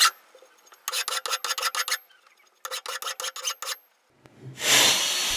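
Two bursts of rapid back-and-forth rasping strokes as a file smooths sharp metal edges, close and steady, followed by a louder scraping swell.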